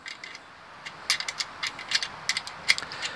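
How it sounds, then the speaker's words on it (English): A 9/16 wrench works nuts onto a Blue Sea Systems battery switch, giving a quiet run of sharp metallic ratcheting clicks in irregular bursts, close by with no talk. "And this is a 9/16 wrench."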